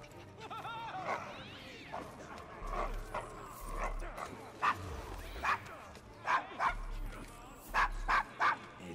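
A dog in the Assassin's Creed Syndicate video game barks and yips in a series of short, spaced bursts over game music and ambience, with someone speaking between them.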